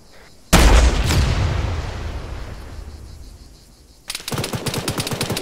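In Arma 3, a rocket launches with a sudden loud blast that rumbles and slowly fades, followed by rapid bursts of close automatic gunfire in a fast rhythmic rattle.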